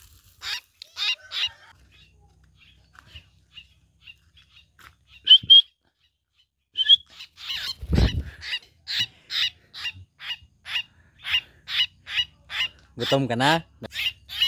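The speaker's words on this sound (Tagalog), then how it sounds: "Ito yung dalawa kong alagang kulito, guys." A pet coleto, or bleeding-heart myna, gives a long series of sharp, evenly spaced honking calls close by, with a few scattered calls and a brief spoken question early on.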